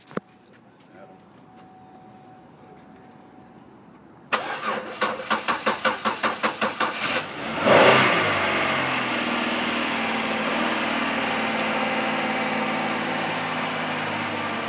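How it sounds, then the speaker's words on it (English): A 2002 Oldsmobile Alero's 3.4-liter engine cranks in a rapid stuttering burst, catches with a surge, then settles into a steady loud idle after a stretch of quiet background. "Will you start this engine for me, Jeremy?"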